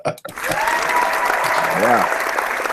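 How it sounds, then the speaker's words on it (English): A hand-clapping applause sound effect plays as a steady wash of clapping, with someone talking over it. "Took me that long to find the hand clapping."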